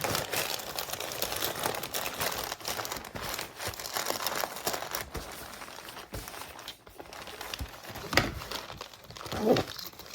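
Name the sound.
packing paper crinkling as it is stuffed into a bag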